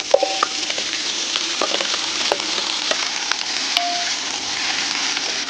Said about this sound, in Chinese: 叔叔，你还会先炒肥肉了？